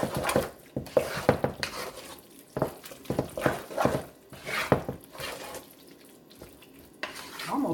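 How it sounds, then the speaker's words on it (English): A spoon stirs green bean casserole in a pot, giving irregular scraping and clanking knocks against the metal in bursts, with quieter pauses between strokes. "I'm just going to give it a really good stir to meld all the things in there together"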